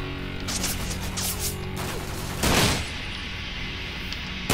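Bursts of enemy gunfire in the Sunset Overdrive video game, a rattling volley with a louder crack-heavy burst midway and another at the end, no talking over it.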